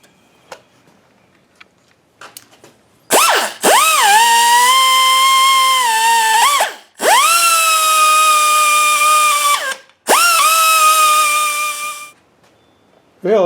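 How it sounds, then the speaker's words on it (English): A drill bores a large hole in steel during a South Bend 11-inch lathe rebuild, giving three long, loud, whining screeches separated by brief pauses, preceded by a few faint clicks. "Yeah, that hole was a booger to drill."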